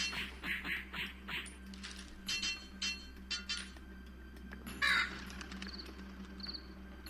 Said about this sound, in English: Oh god, the birds.